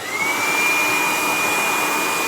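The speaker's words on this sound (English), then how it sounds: "First of all, blow dry it into shape." A hair dryer blows steadily while a moustache is blow-dried into shape, giving a loud, constant whirring roar with a high steady whine. It runs close and alone, with no talk.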